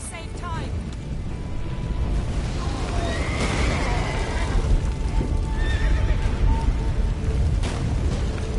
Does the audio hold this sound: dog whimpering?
no